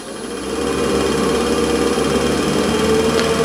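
A wood lathe spins a block of cherry, rising into a steady motor whir with constant hum and high whine, continuous and close, with no talking.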